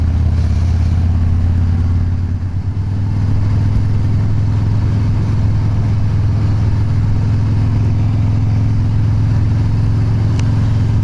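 Harley-Davidson motorcycle engine with a replacement motor and a deep, throaty exhaust, running steadily near and loud in a low rumble, with a brief dip in level, alone without talk.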